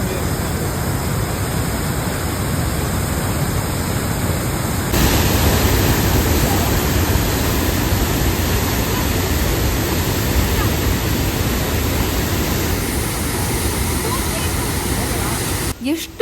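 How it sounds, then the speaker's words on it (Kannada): A monsoon-swollen waterfall near Sakleshpura roars in the rain, a loud, dense, unbroken rush of water filling the whole stretch, with a brief handling bump at the very end. "ಎಷ್ಟು ರಭಸವಾಗಿ ಹರಿತಾ ಇದೆ ಈ ನೀರು."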